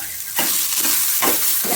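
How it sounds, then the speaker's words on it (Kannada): Onions fry in a pan with a close, bright sizzle, and a spoon scrapes through them in quick, repeated strokes, about four sweeps in under two seconds. No talking is heard. "ಇದನ್ನೆಲ್ಲ ಚೆನ್ನಾಗಿ ಕಲರ್ ಬದಲಾಗೋವರೆಗೂ ಫ್ರೈ ಮಾಡ್ತೀನಿ."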